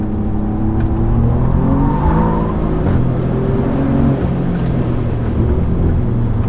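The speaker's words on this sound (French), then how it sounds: "Oh, il y a des explosions à l'arrière." An Alfa Romeo Giulia QV gives off a loud, close engine roar with a few sharp pops and crackles from the exhaust as it drives hard.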